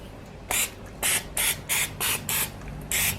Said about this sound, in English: put oil spray on it so they won't stick.